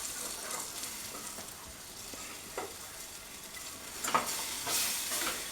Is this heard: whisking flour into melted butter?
yes